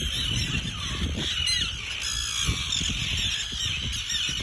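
Annoyed birds honk repeatedly in goose-like bursts, moderately near, with scattered rustling and no talk.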